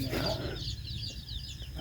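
Chickens clucking at a rural home where ducks and chickens are kept, with steady, close clucks over a constant background.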